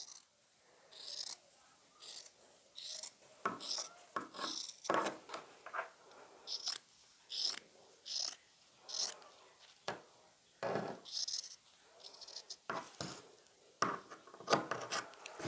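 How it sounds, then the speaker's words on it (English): Scissors snip through shirt fabric to cut a V shape into a collar, giving a steady series of short, close, rasping cuts with brief pauses between them. "so I'm just going to cut my own V"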